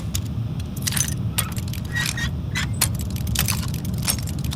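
A character types on a keyboard in the Fallout 76 video game: irregular clusters of clicky, clattering keystrokes in short bursts over a low, steady game ambience, with no talking.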